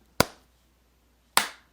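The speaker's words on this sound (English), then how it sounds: "So we'll go ahead and clap us out if that works for you." Two sharp, crisp hand claps about a second apart from podcast hosts, close and clear in an otherwise quiet room, each with a short decaying tail.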